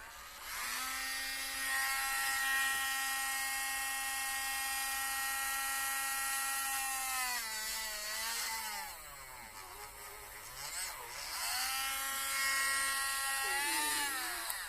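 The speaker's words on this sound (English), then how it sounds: "And you notice I'm using a Dremel." A Dremel rotary tool removes the male attachments from an implant-supported overdenture. It gives a loud, continuous high-pitched whine close by, with the pitch dipping and rising as the tool loads against the part.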